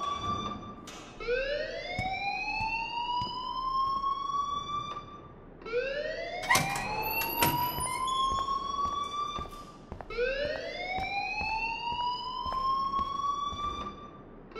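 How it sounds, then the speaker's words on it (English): School alarm in the video game Life Is Strange, sounding as a loud rising siren-like wail that repeats in three long sweeps with clattering noises in between. "please turn off that alarm since that's your job"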